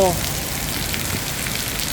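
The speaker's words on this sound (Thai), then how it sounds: "ที่กาญจนบุรีตก ตกหนักมาก ๆ นะครับ" Heavy storm rain pours down in Kanchanaburi, Thailand, a loud, dense hiss of drops pattering on surfaces, steady throughout.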